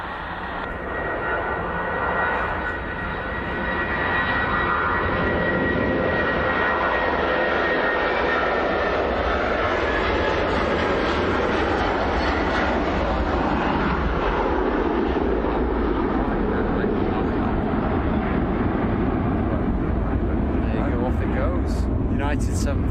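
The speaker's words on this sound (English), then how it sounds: "United 757 blasting off 2-3 right." United Airlines Boeing 757 jet taking off from runway 23 right at Manchester Airport, a loud, sustained engine roar that swells and holds throughout, with a broad rumbling blast and faint talk in the background.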